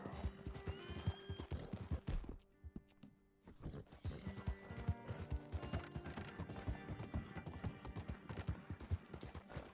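Rhythmic horse hooves clip-clopping at a steady trot in Red Dead Redemption 2, with occasional clicking mechanical sounds and a brief pause midway; no voices.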